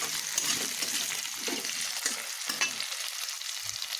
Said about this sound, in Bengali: এই দেখুন আলুটা আমার ভাজা হয়ে গেছে